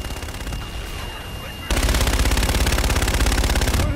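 Rapid automatic gunfire in the Call of Duty Infinite Warfare video game, a loud continuous rattling burst that starts suddenly partway through and keeps a fast, even rhythm until the end, with no voices over it.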